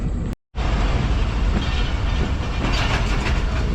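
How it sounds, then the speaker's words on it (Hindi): The 40DN Jaffar Express passenger train pulls out of Khanewal station, a loud continuous roar of wheels and rattling carriages heard from on board after a brief cut, with rhythmic clatter building and no voices. "2 मिनट रुकने के बाद खानेवाल से निकल रही है ट्रेन हमारी"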